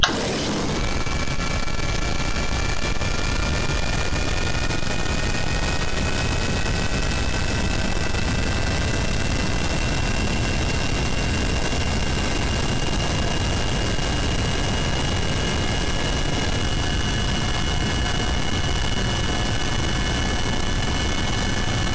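An aircraft engine in Kerbal Space Program roars continuously and loudly during takeoff, a steady droning whine with rising tonal layers and no pauses.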